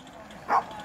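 A dog at an early-morning campsite gives one short, fairly close bark midway through, with quiet outdoor ambience before and after.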